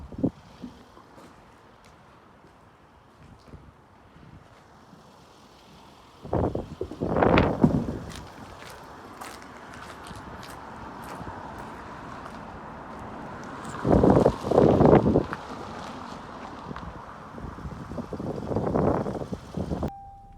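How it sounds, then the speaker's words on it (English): Wind gusting through an abandoned factory building, a steady rushing roar that swells into loud bursts a few times, with scattered clatter and debris sounds in between; no talking. "Believe it or not, it's fucking windier in here."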